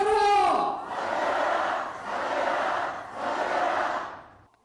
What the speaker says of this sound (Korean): 일본 경제 보복을 규탄하고 철회를 촉구하는 함성이 양주시에 드높습니다